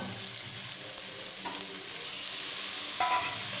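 Spice masala with chili powder and turmeric powder sizzles and fries steadily in a pan for chana paneer, a continuous close hiss with a couple of brief stirring scrapes.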